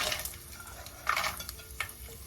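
Raw peanuts roasting in a pan for upma, with a soft continuous sizzle and a few scraping stirs and light rattles against the pan, close and moderate in level.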